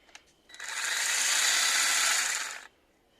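A Metabo MS 18 LTX cordless chainsaw with a brand-new bar and a two-metre extension pole runs alone for about two seconds, a steady high whine that spins up quickly and cuts off cleanly, with faint clicks before it starts.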